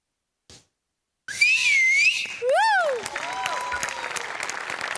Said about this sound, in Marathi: तुमच्या दोघांसाठी होती शिट्टी